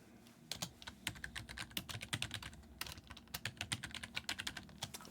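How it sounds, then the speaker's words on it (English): Fast, steady typing on a computer keyboard, close and fairly quiet, with rapid irregular key clicks running continuously and no talk. "I was just typing something."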